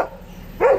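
One short, close dog bark comes at the end of a brief stretch of quiet indoor background.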